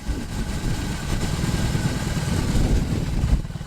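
A motorcycle with its factory exhaust idles nearby with a steady, low rumbling exhaust note, loud and continuous with a slight uneven throb.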